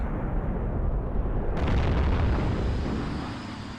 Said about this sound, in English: Oh, look at all this direct fire.